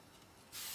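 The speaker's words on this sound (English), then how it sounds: "give it a spray." Hairspray from an aerosol can misting over pinned hair curls, a short close hiss that starts suddenly about halfway through and holds steady to the end.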